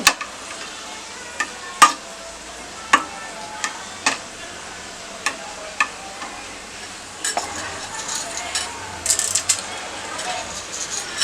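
Red chillies frying in a pan: a soft continuous sizzle broken by repeated sharp spoon taps and scrapes against the metal, with a faint voice in the background.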